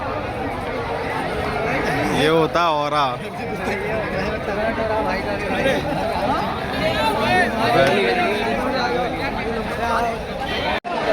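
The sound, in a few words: crowd chatter at a gathering awaiting Daksh Chaudhary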